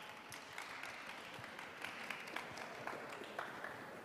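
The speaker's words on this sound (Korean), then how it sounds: "여러분 큰 박수 부탁드리겠습니다" An audience at a youth entrepreneurship program pitch event applauds as a presenter is brought to the stage, a steady, fairly quiet wash of many hands clapping at an even level.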